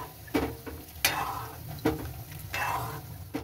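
Cornflour slurry thickening and sizzling in a pan, a soft steady frying hiss punctuated by several sharp scraping stirs of a spoon against the pan, close and moderately quiet with no talking.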